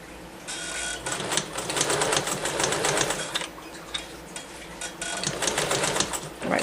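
A sewing machine stitches along a jeans hem in dense, rapid mechanical chatter. The whirring runs steadily with brief pauses and is close and fairly loud, with no talk.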